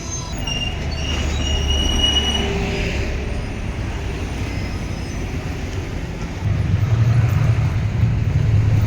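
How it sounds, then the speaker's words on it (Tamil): A London train rumbles across the Southall railway bridge, a steady close roar with rail squeal and clatter that swells louder toward the end. "London train"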